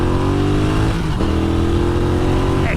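Retro motorbike engine revving hard at full throttle, loud and close, a sustained high rising whine that dips briefly and then climbs again, with no voices.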